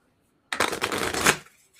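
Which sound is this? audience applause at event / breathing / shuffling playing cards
shuffling playing cards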